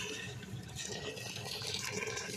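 Water poured into a cooking pot in a home kitchen, a steady continuous splashing pour running the whole time at moderate, close level with no talk.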